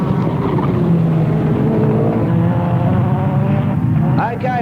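Speedcars at the 1986 Ray Revell Memorial roar off turn 4 after a caution, a loud sustained engine drone with rising tones, a brief tire squeal near the end, and an announcer talking over it.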